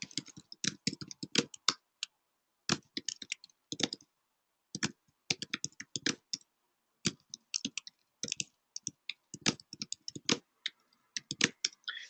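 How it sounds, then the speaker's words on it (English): Bursts of quick clicking keystrokes on a computer keyboard, close and crisp, coming in short runs separated by brief pauses. "I'll type these in."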